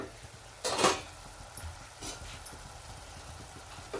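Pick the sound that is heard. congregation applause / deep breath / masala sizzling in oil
masala sizzling in oil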